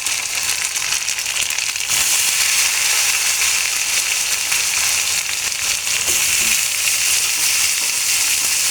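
Pieces of bottle gourd drop into hot oil over onion and ginger paste, and the frying jumps to a loud, dense, crackling sizzle that holds steady and close.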